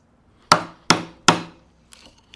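Three sharp, loud strikes at steady intervals as a chisel is driven into a wood mortise near a knot, followed by a couple of faint small knocks.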